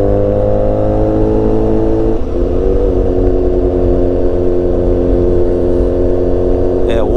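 A BMW S1000XR motorcycle ridden along a short stretch of road after a drive ratio change, its engine droning loud and close with rising and shifting pitch as it accelerates through gears, with wind noise throughout.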